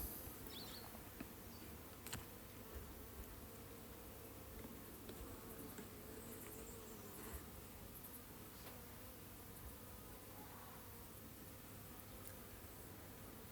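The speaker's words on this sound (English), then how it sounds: "Nice sort of greyish black bees." Greyish black honey bees hum at a calm hive during a split of long mini nucs, a faint, even, continuous buzz with no voices.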